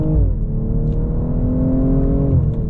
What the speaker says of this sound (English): On upshifts, you get these little burbles from the back of the exhaust